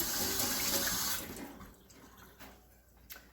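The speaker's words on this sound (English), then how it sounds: "Let me rinse my knife off again." A kitchen tap runs steadily as a knife is rinsed under it while making sautéed potatoes and onions, then the flow cuts off after about a second and a half, leaving faint drips and small handling sounds.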